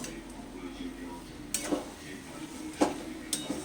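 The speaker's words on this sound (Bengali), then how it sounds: "ঘি দিয়ে দিচ্ছি একটু ভালো করে এবার নাড়াচাড়া করে নেব" Cabbage with a fish head and ghee being stirred in a pan, a steady low sizzle broken by a few sharp metal clinks of the spoon against the pan.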